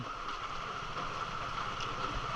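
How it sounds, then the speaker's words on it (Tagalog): Heavy rain falls on open water at sea during a fishing trip, making a steady, dense hiss with wind noise mixed in, moderately loud and continuous throughout with no talk. "Malakas yung ulan ngayon."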